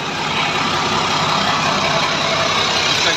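A Sinotruk Howo NX430 truck with a ZF gearbox idling close by, a dense, steady low rumble and broadband roar holding constant with no voices.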